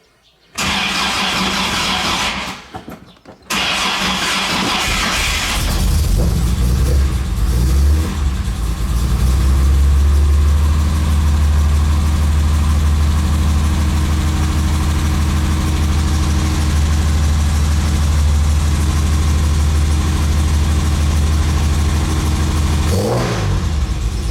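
A Jaguar E-Type engine cranks and fires up on its first start, revs briefly, then settles into a loud, steady idle with a deep, rumbling tone.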